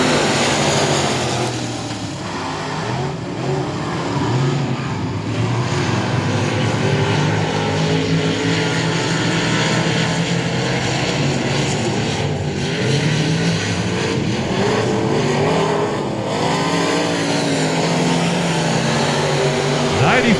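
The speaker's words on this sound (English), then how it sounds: "Light up those engines." Dirt truck race engines roar together as a pack accelerates away at the green flag at a Texas speedway, a continuous loud, broad drone that stays steady throughout.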